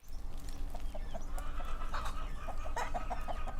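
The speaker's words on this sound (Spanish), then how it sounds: "las gallinas empiezan a cacarear" Chickens cluck and chatter close by in a steady stream, with a low rumble of background noise underneath.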